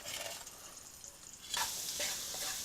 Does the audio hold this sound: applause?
no